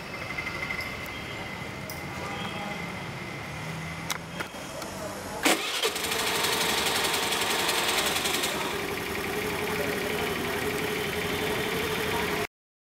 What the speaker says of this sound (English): the engine turns on